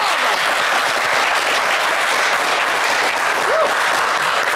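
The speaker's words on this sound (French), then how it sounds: "On va les applaudir très fort." Loud, sustained audience applause for the selected contestants on a French game show, a dense even wall of clapping from a studio crowd that carries on steadily, with a faint voice briefly audible underneath.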